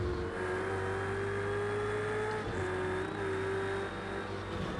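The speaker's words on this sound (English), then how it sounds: "It's that turbo whir." A video game car engine in Project Cars 2 drones steadily at a constant pitch, with a thin high turbo whine running above it throughout and no talking.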